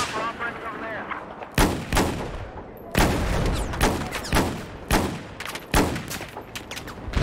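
Gunfire in the video game Battlefield 6 with a sniper rifle setting: a series of sharp, loud shots spaced irregularly, about seven bursts over several seconds, some with rolling echo tails.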